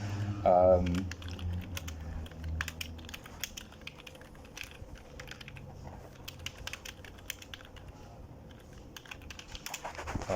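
Notes typed on a computer keyboard, a long run of quick uneven key clicks up close with brief pauses, and a voice speaking briefly at the start.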